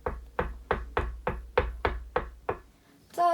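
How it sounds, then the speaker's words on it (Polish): Knocking on a door, eight sharp evenly spaced raps, close and loud, with a brief rustle at the end. "to Igorem znowu puka"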